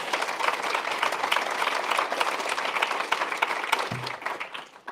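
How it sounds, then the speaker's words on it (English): Attendees at a fintech conference session in Leeds applaud a speaker, a steady, fairly loud patter of many hands that runs for several seconds before tapering off, with a brief voice near the end. "Round of applause for George"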